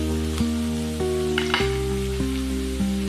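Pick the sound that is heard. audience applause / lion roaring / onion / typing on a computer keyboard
onion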